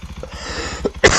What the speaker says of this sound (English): sorry about the cough in there